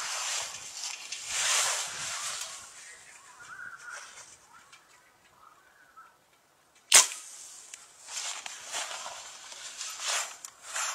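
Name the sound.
compound bow shooting arrow at a can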